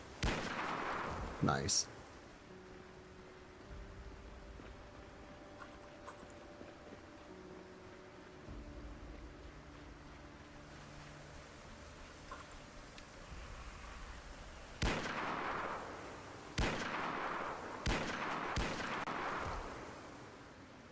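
Gunfire in the zombie survival game Project Zomboid: a sharp shot early, then a cluster of loud, broadband bursts near the end, over steady ambient game noise, with a voice speaking briefly.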